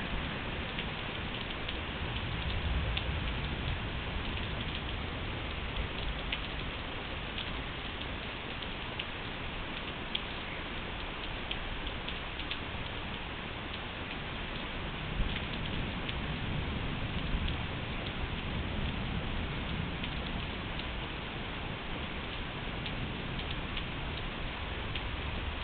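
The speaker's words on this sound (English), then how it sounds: "Raindrops" Steady rain falls outdoors during a storm, a constant even hiss of drops on surfaces with no voices.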